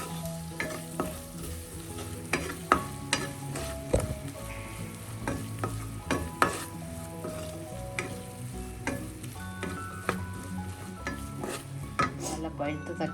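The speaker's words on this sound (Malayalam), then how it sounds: "പച്ചമണം മാറുന്നത് വരെ നമുക്ക് മിക്സ് ചെയ്യാം" A fish curry masala of trevally (yellow parai) for a Kerala-style mulakucurry is stirred and fried in a pan, giving steady close sizzling under repeated scraping and clinking of a utensil against the vessel, with no talk.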